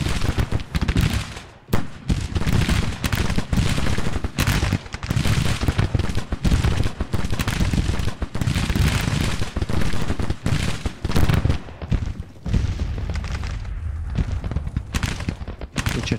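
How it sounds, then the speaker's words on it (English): Continuous barrage of gunfire and cannon in a Civil War strategy game, loud dense volleys and booming shots overlapping almost without pause, with brief dips in intensity. "They've got their guns opening up on us."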